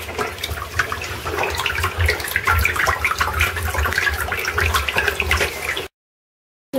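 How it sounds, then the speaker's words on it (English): Water runs from a tap in a steady, close rush for several seconds, then cuts off abruptly into silence. "we're going to turn this tap on slightly, and we're going to let a little bit of water in"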